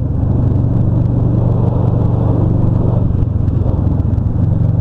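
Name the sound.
car accelerating near motorcycles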